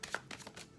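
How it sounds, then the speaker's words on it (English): Tarot cards being shuffled by hand, a few quick papery riffles and soft slaps, close and quiet with no talking. "One more shuffle."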